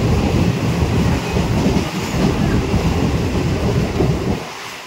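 A train rumbling at Bandel railway station, a loud continuous low roar with faint rail clatter that fades slightly at the end, with no talk.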